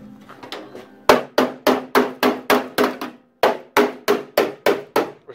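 Hammer blows on a Range Rover part in a garage, testing it on a 1990 two-door build: a dozen sharp, loud metallic whacks in steady rhythm with a short pause midway, each ringing briefly before the next.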